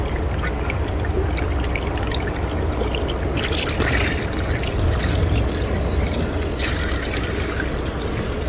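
Engine oil drains from a Toyota 4Runner in a steady, continuous pouring trickle. It stays close and even throughout, with a few brighter splashy bursts and no talk.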